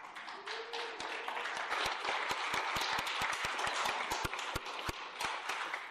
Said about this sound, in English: please try and hold your claps to yourselves so we don't have disruption in the meeting